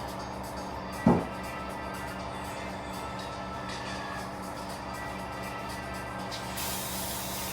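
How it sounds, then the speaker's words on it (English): An aerosol can of brake cleaner hisses onto a new brake rotor for a 2001 GMC Sierra to strip the shipping oil, with a short sharp burst and then a longer steady spray in a garage. "I'm gonna spray off the shipping oil. Came on the rotor."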